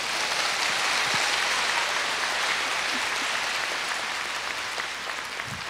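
Audience applause at a university concert, a dense, steady wash of clapping from a large crowd, sustained throughout without speech.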